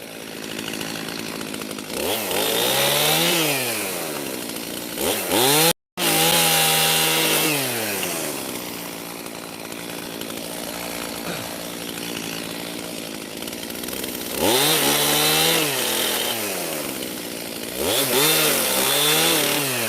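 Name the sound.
chainsaw cutting limb wood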